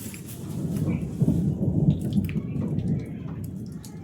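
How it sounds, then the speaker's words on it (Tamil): Thunder rumbles low and heavy through a steady rainstorm, a rolling boom swelling in the middle over constant rain patter on surfaces, with no voices. "இடி சவுண்டு மட்டும் கேளுங்க."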